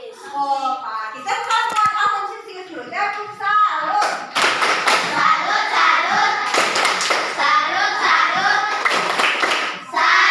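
Schoolchildren in a Papua classroom perform a rhythmic call-and-response clapping chant, their voices chanting together in turns between bursts of loud, close group hand claps.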